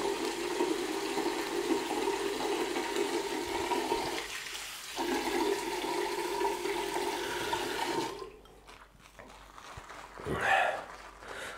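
Steady rush of running water pouring from a tap, fairly close, cutting off near the end followed by a short breathy sound.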